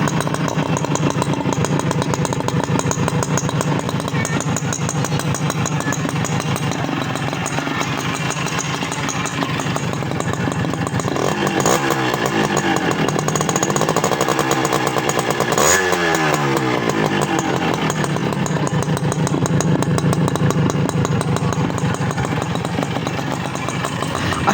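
An old Honda H100S CDI motorcycle engine runs steadily and loudly close by, a continuous buzzing idle with a couple of brief revs partway through, no voices over it.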